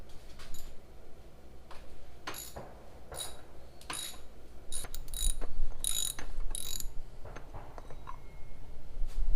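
A ratchet wrench loosens a car's oil filter. Its pawl gives irregular clicking bursts at close range against a quiet background, with no talking.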